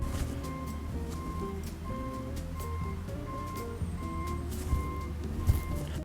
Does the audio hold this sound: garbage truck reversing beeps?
yes